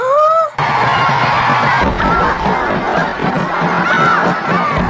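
A large crowd at a Maya sacrificial ritual atop a pyramid roars and cheers in a film, with whooping, shouting voices massed together. A short tonal sound opens the clip before the loud, dense cheering takes over.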